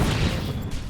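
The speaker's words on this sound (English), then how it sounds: "Basically, you get a bigger hitbox and an explosion." A boomy explosion from the Ram Boom move in a Godot-made shmup video game, a loud low-heavy blast with a crackling tail, sustained over a short moment with no talk.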